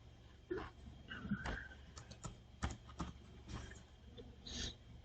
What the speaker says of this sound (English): So here you have to type